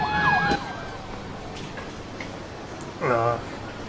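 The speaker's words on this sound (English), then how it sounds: "the sirens is a mod" Modded emergency vehicle sirens in the video game Emergency 4 sound in short bursts, a rising wail at the start and another brief siren blast near the end, fairly loud over a quiet game background.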